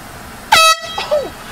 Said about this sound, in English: blow the air horn at him